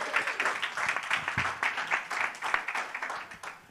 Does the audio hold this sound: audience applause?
yes